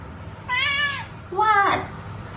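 British Shorthair cat meowing twice close by, two clear drawn-out meows about a second apart, each rising and then falling, over a quiet room.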